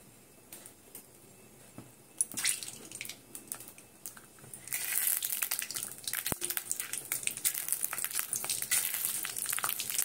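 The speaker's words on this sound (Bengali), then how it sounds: "তেলের মধ্যে আগে বাদামটাকে ভেজে নেব" Peanuts frying in oil, starting quiet with scattered light clicks, then building into a loud, dense crackling sizzle with rapid tapping pops up close.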